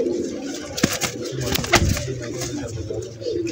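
Pigeons coo in low, throaty murmurs close by, with soft overlapping calls and a few light rustles in the background.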